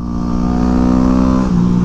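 A Yamaha WR250 motorcycle engine revs loud and steady while riding, with a sustained buzzing drone that dips slightly in pitch near the end.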